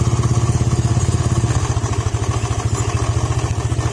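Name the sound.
engine knocking from loose crankshaft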